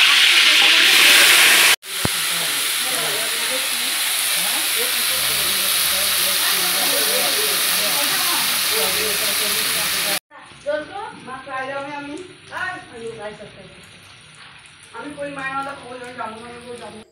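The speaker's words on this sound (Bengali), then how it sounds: "ফুলকপিটা ভেজে নিব।" Cauliflower fries in hot oil, a loud sustained hissing sizzle that cuts off abruptly partway, after which a voice talks over a much quieter background.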